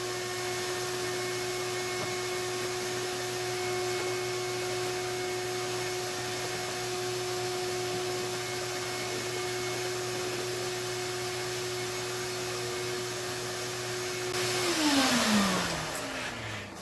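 A 2-inch PVC dust collection system draws through a handheld hose to clean off a workshop bench, giving a steady loud vacuum roar that holds throughout, then briefly swells into a rushing, rising sweep near the end.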